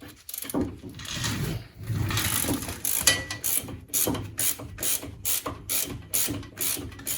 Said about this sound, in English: So I removed the nut on the bolt joint